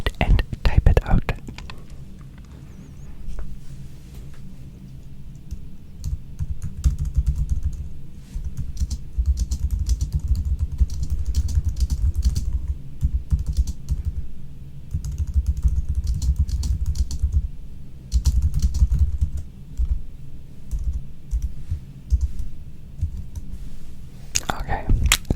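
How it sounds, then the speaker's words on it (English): Close, soft clattering of keys as a question is typed on a computer keyboard in a quiet whispered setting, continuous irregular taps running throughout with faint whispering over them. "let me type it out"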